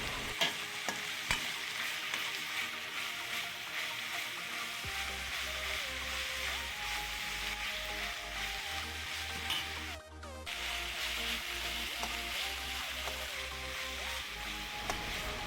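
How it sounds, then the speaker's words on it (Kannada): Six thinly sliced onions fry in oil with a soft, continuous sizzle and occasional stirring scrapes, heard close and steady throughout; a regular low thumping pulse runs underneath. "ನಾನು ಆರು ಈರುಳ್ಳಿಯನ್ನು ಸಪೂರಕ್ಕೆ ಕಟ್ ಮಾಡಿ ಎಣ್ಣೆಯಲ್ಲಿ ಫ್ರೈ ಮಾಡ್ತಾ ಇದ್ದೇನೆ"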